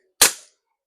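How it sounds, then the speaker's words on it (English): Single sharp crack from a full metal CO2 airsoft revolver, loud and close, with a quick decaying tail and silence around it. "I need to do one more shot because no way was that realistic"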